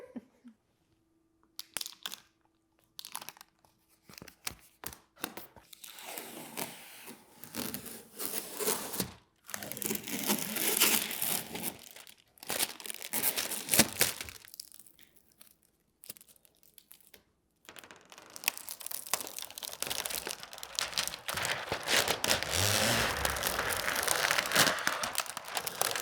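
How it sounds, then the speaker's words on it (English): Protective plastic film peeled off a TCL QM7 MiniLED TV, crackling and crinkling in irregular bursts with brief quiet gaps, ending in a long continuous rustling tear. "Let's go peel the plastic."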